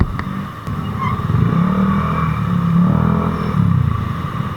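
Motorcycle fitted with a JBT exhaust revving on a road near Marcos Highway, a steady rumbling engine note rising and falling in pitch, moderately loud and continuous throughout.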